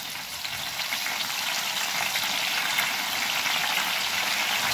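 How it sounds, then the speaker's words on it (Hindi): Banana slices deep-frying in oil for crispy chips, a dense continuous bubbling sizzle held close and even throughout, with no voices. "याच्यामध्ये आहे ना थोडं मिठाचं आणि केळाचं पाणी घालत जायचं आणि फ्राय करायचं."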